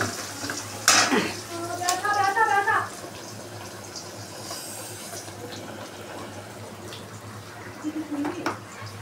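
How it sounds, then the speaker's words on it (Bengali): Onions sizzle softly in a frying pan, a faint continuous crackle under a voice, with a few clinks of a utensil against the pan. "এদিকে আমার দেখো পেঁয়াজটা ভাজা হচ্ছে"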